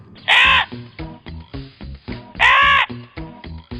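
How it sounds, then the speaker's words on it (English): Two loud, harsh crow caws about two seconds apart, close by, with a stretch of muffled talking in between and after. "there lived a crow."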